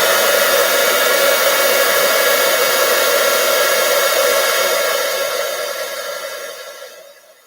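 A heat tool blows a loud, steady roar of hot air close by as it melts embossing powder on card, then fades away near the end.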